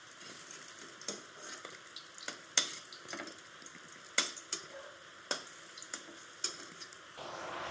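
Lentil fritters sizzling quietly in a wok of oil as they are lifted out, soft steady frying broken by sharp clinks and scrapes of a utensil against the pan.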